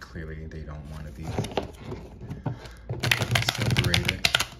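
Oracle cards are shuffled close by in quick clicking, tapping bursts that grow busier toward the end, while a person speaks over them.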